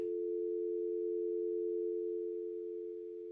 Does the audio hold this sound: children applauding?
no